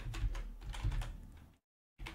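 Quick, close typing on a computer keyboard, a rapid run of light clicks that stops briefly and then resumes with one more keystroke, with no voices.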